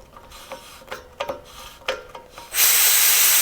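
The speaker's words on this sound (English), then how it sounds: "Some air building up in there" A Fortress 27 gallon air compressor regulator gives a few mechanical clicks and ratchet sounds, then loud steady air hissing starts suddenly and continues close by.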